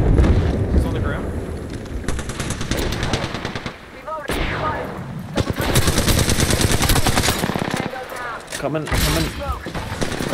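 Rapid automatic gunfire in the battle royale video game Apex Legends, loud and near with bursts of shots and a brief lull, while players talk over it.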